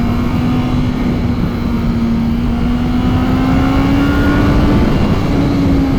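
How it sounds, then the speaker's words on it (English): A 2021 Honda CB650R motorcycle's four-cylinder engine revs close and loud, a smooth sustained drone whose pitch climbs gradually as the rider holds it through the rev range. "if you want to get a good punch out of it, you really gotta rev this thing out"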